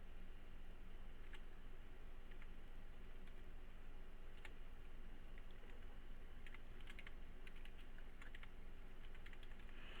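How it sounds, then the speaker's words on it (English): Faint, quick keystrokes on a computer keyboard tap away in irregular bursts over a steady background hiss, with no voices. "Typing."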